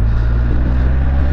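Yamaha FJR1300 motorcycle engine pulling in fourth gear while riding, a loud, close, steady low drone with a continuous throaty hum and wind rush, no talk over it.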